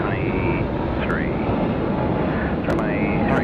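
A Singapore-bound airliner at Sydney Airport produces a steady, broad jet roar throughout, with a few short chirping tones riding on top.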